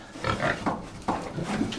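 Several short pig grunts and oinks at close range, coming in irregular bursts with a bit of shuffling noise between them.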